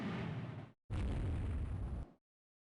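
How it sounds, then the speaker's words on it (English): Two heavy, booming blasts from dive bomber attacks in the naval strategy game Rule the Waves 3, separated by a short silence, the second one longer and louder, with no speech. "What are you dive bombing an enemy AV?"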